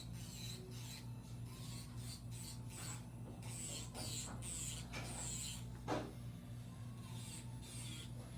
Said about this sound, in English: This drill is a Pro Power 20K by Medicool.